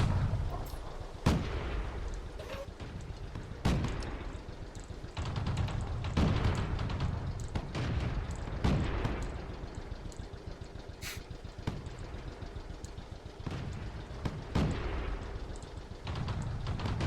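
Tank cannon fire in World of Tanks, several heavy booming shots spaced a few seconds apart over a rumbling engine drone, loud and close, with no talking.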